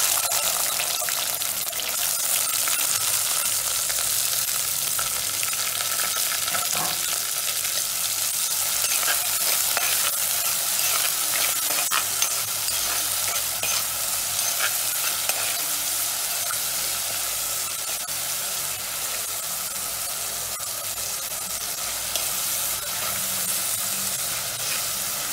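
Chopped large onions frying with curry leaves in a pan for a freshwater pomfret fish curry, a loud continuous sizzle and hiss with occasional stirring scrapes, steady throughout with no talk.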